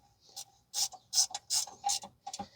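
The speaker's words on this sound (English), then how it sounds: "ratcheting wrenches from Canadian Tire on sale" A long ratcheting wrench clicks rapidly during a rear brake job on a 2012 Ford Fusion 2.5, in several close, quiet bursts of ratchet clicks separated by short pauses.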